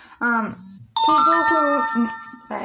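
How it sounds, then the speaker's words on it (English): A mobile phone rings with a bright, sustained electronic ringtone that cuts in between bursts of close speech, the tone holding for over a second before the talking resumes. "that was my phone"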